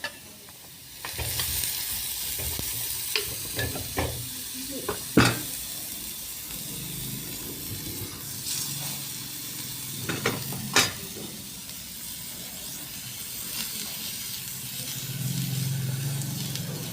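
Onion frying in a pan with a steady close sizzle and hiss, broken by occasional scrapes and clinks of a stirring utensil; no talking.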